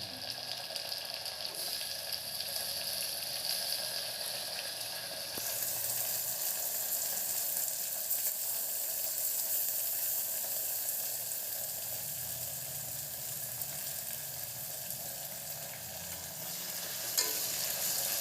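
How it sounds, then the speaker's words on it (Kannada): Onions with ginger garlic paste fry in a pan, giving a continuous close sizzle with stirring scrapes; the hiss thins a little after the first few seconds and then holds steady. "ಈರುಳ್ಳಿ ಕಳೆ ಬರೋವರೆಗೂ ಫ್ರೈ ಮಾಡಬೇಕು ಶುಂಠಿ ಬೆಳ್ಳುಳ್ಳಿ ಪೇಸ್ಟ್ ಹಾಕ್ತಿದ್ದಾಳೆ"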